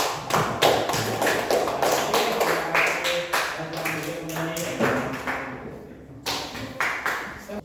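Students applaud a group in a classroom with a steady run of close, busy claps, while a voice talks over the clapping partway through.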